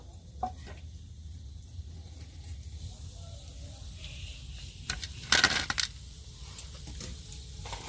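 A final batch of chicken pakoras frying in hot oil gives a soft, steady sizzle and hiss, with a brief metallic clatter midway.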